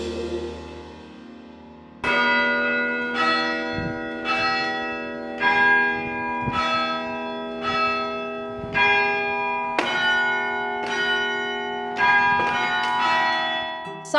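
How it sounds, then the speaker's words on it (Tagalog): Church bells in the Philippines ring out clearly in a slow series of about ten resonant strikes, each leaving a long humming tail that overlaps the next, with no voices heard. "ang mga kampana ng simbahan hindi lang tumatawag sa misa"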